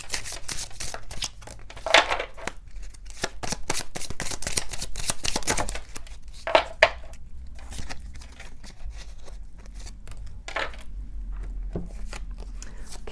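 Archangel Michael oracle cards being shuffled by hand, a run of quick papery riffles and slaps in bursts with short pauses between, close and fairly quiet.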